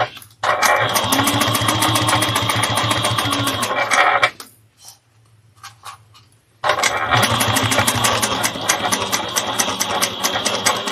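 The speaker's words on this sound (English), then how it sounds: "I'm just top stitching at 1/8 of an inch." A sewing machine top stitches fabric at an eighth of an inch with a long stitch length, running in a loud rapid steady whir, stopping briefly for a few faint clicks, then running again.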